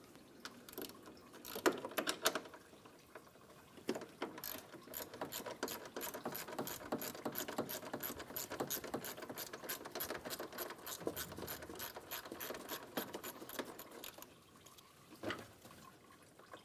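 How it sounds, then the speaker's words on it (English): A ratchet turns out the 10 mm fan shroud bolts on a 2003-2007 Infiniti G35 during radiator replacement, with quick, even clicking bursts and a long steady run in the middle, close and fairly quiet. "Remove the 10 millimeter bolts for the fan shroud."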